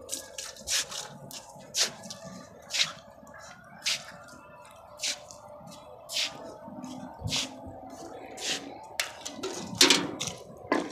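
Water poured and splashed while changing the drinking water for caged chickens and ducks, a series of separate splashy gushes and drips spaced a second or so apart, fairly close, with faint background noise.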